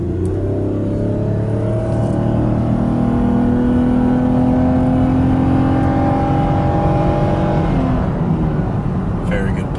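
A 2012 Toyota Highlander Hybrid Limited accelerates steadily after a U-turn, its engine and drivetrain note rising in pitch through one long pull, loud and close from inside the cabin, with no talk.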